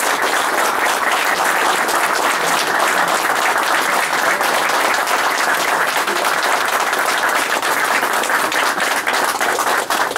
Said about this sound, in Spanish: Así que yo les pido un aplauso para él.